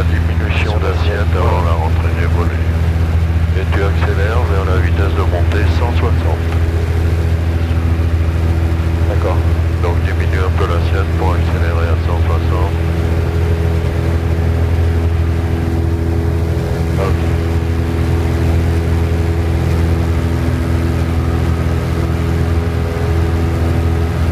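Robin DR400 light aircraft with a 160 hp engine in flight near Nevers, a loud, steady propeller drone filling the cabin throughout while crew members talk over it.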